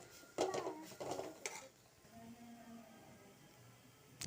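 A spoon scraping and clattering in a cooking pan while meat masala spice mix is stirred into soya chunks, a few sharp knocks early on, then quieter stirring with a faint sizzle.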